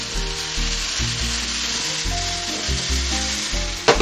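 Chayote and carrots stir-fry with beef tripe in a hot pan, a loud steady sizzle over low clattering and scraping, ending in a sharp knock.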